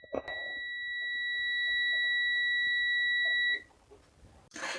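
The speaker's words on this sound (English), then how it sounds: "And if it has a connection, you'll hear a beep." A multimeter gives one steady electronic continuity beep, lasting about three seconds, while testing the thermal fuse of an Electrolux dryer. The tone is close and clear, with no other sound behind it.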